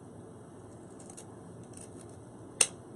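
One quick, crisp scissor snip through ribbon, cut at an angle to form a point while making a Christmas bow. It lands near the end, close and sharp, after a quiet hiss.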